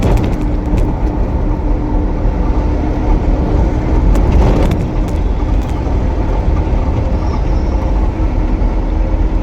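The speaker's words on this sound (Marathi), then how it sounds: "आली रे गाडी आली आली गाडी थांबवा" A motor vehicle roars loudly and close during a roadside chase after a truck, with a dense, steady engine and road rumble that holds from start to end and no clear voices.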